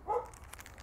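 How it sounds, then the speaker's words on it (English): A neighbor's dog gives a single short bark or yelp, moderately close and fairly loud, then fades into quiet room tone. "Guess my neighbor's dog is just awakened."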